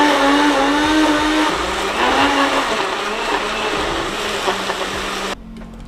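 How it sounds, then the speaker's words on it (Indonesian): A blender whirs steadily as it purees pineapple with added water for nastar jam, a loud continuous motor whine that shifts pitch slightly before cutting off near the end. "Jadi air dari yang tadi kita blender ini, nanas yang sudah halus, bantu bikin yang lainnya itu lebih gampang muter."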